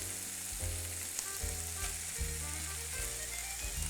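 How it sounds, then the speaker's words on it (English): Sausage meat and spicy 'nduja sizzle steadily in a hot pan, a continuous loud frying hiss broken by the scrape and clatter of stirring, with no voices. "So let's brown the meat first, and then we can add a shot of red wine."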